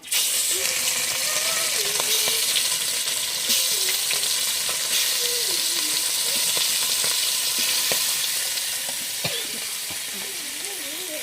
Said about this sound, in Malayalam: മീൻ തലയും കൂടെ ഒന്ന് ഫ്രൈ ചെയ്തെടുക്കാമേ